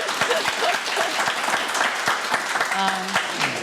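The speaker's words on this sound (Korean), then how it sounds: "박수 좀 부탁드려요" A small audience at a Korean movie talk event applauds warmly and steadily, with a voice briefly speaking over the clapping near the end.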